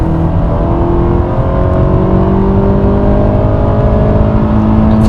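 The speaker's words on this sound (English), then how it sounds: "Acceleration on the highway." A 2016 Honda Accord Sport accelerates hard at full throttle on a highway, its engine a loud, steady, rising drone close up, with layered harmonic tones climbing together over rumbling road noise toward the top of the rev range.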